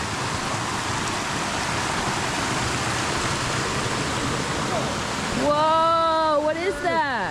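Water rushes steadily along a flooded hiking trail on the Appalachian Trail in the Berkshires near Dalton, Massachusetts, a dense, continuous wash; near the end a voice cuts in over it.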